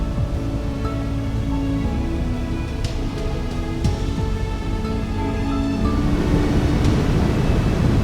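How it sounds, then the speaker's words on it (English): Water diverted by a hydroelectric plant pours as man-made waterfalls down the sides of a canyon in the Icelandic Highlands, a broad, continuous roar heard from nearby with wind buffeting the microphone. "the diverted water is what rains out of the sides of the canyon like tears"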